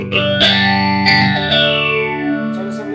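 Electric guitar through a Blackstar HT-Effects pedal on its second phaser setting, loud sustained chords with a swirling, sweeping phase wobble that rings on alone.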